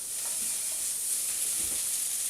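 Gammon, pork steak and pork sausage with mixed veg stir-fry in a wok, giving a steady, bright sizzle with soft scraping stirs, continuous and close, with no talking.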